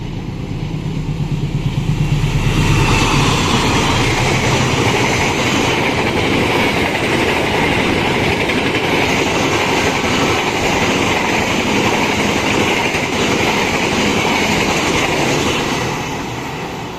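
Passenger train Jayakarta running toward Surabaya Gubeng station, a steady loud roar of engine and wheels with a dense rumbling rattle that swells early and holds for the whole stretch before easing slightly at the end.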